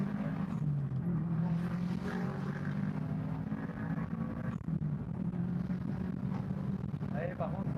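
A Subaru WRX STI 7 Prodrive with a Stage 2++ tune moves off gently in first gear, its low engine hum steady and moderate under ongoing talk inside the car.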